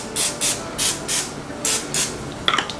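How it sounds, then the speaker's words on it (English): Oil spray is shot onto a doughnut pan in about six short, close hissing bursts, each roughly a quarter second long with brief pauses between them, followed by a few light clicks at the end. "for pan preparation, I have here oil spray."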